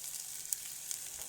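Chopped onions and lily flowers sweat in a small saucepan, giving a brief, soft, steady sizzle with a couple of faint pops.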